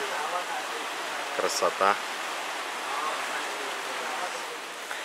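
A river rushes past its bank in Afghanistan as a steady, broad wash of flowing water. Someone speaks one short word briefly over it.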